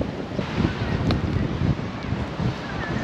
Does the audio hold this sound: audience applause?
no